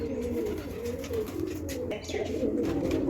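Fantail pigeons in a loft keep up a steady, dense murmur of low cooing that runs throughout, fairly close and continuous.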